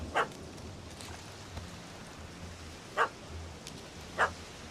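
A dog barks in The Witcher 3: Hearts of Stone, three short, sharp barks spaced apart over a quiet ambient background.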